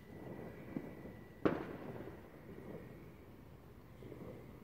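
A firework launches far away outdoors, one sharp crack with a short echoing tail over steady wind and low rumble.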